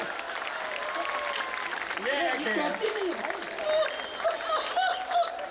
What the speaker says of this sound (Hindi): अध्याय समाप्त हुआ, जोरदार ताली बजाओ।